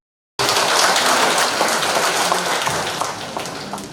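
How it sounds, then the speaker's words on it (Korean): Dense, steady applause from a ceremony audience in Hamyang welcoming the county governor, starting abruptly after a short silence and holding loud and continuous before easing slightly toward the end. "박수 부탁드리겠습니다"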